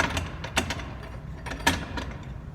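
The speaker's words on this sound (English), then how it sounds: "This clamp does not want to come apart." A woodworking clamp being loosened and pulled apart at a sanding bench, giving a few scattered metallic clicks and ratcheting knocks, close and moderately loud against a low background hum.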